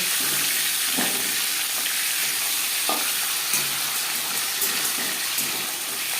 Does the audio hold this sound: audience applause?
no